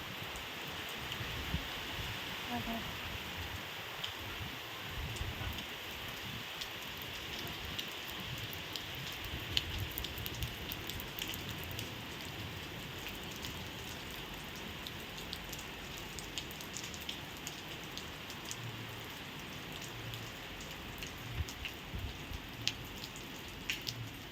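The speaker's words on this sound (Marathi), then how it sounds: "थंड झाला पाऊस" Steady rain falls outdoors in July, a dense, even patter of drops on surfaces that stays constant and fairly soft for the full length, with no voices.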